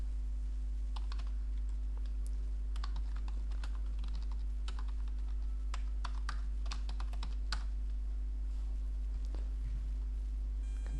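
Fingers tap steadily on a computer keyboard, irregular quick clicks and key presses over a constant low electrical hum, with no talking.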